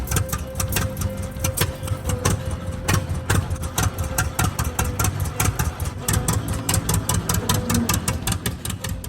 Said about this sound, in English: so Jeremy went up to put his tractor away.